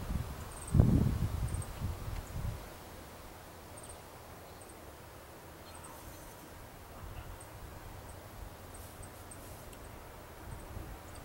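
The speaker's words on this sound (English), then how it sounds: "Oh, now we're gonna get wind." Outdoor wind gusting against the microphone, a heavy low rumbling buffet near the start that eases into a steady soft blowing rush for the rest, with no talking.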